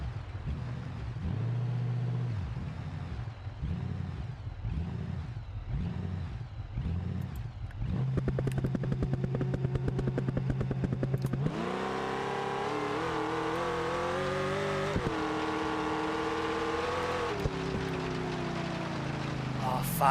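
A car in the BeamNG driving game revs hard and launches in second gear on a dirt track, its engine note climbing in steady pulses and then shifting to a louder, higher sustained roar.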